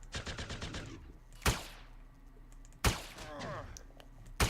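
A Rubio gun firing in the Entropia Universe video game during a drone hunt: three sharp, punchy shots spaced about a second and a half apart, each ringing off briefly, after a quick rattling burst at the start.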